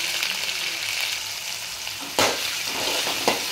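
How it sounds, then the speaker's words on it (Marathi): Tomato with ginger, garlic and chili paste sautés in a hot pan with a steady, loud sizzle, broken by a couple of sharp stirring scrapes. "टोमॅटो आणि अद्रक लसूण पेस्ट अशी परतून घेतली."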